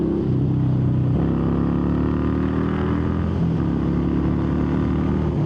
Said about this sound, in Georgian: ნუ თქვენთანაც ხედავთ რომ 100-ის მერე ძრავი იმენა ბღავის რა